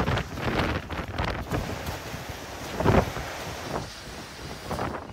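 Strong wind of a super typhoon battering Cagayan, a continuous loud roar and buffeting of gusts against the microphone, with a sharper surge about midway and no voices.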